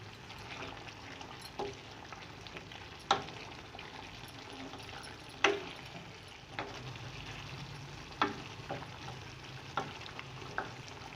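Powdered spices being stirred into frying mutton karahi: a quiet continuous sizzle punctuated by several sharp spoon knocks and scrapes against the pan at irregular intervals, with no speech.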